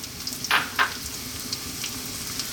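Chopped onion drops into hot sunflower oil in a pan over above-medium heat, raising a steady close sizzle with a couple of sharp crackling bursts early on.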